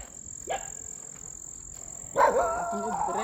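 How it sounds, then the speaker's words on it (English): A pack of street dogs in Bingerville, Côte d'Ivoire, barks at passersby: one short bark early, then a louder burst of overlapping barking and yelps near the end, over a steady high-pitched background hum. "Who are you barking at?"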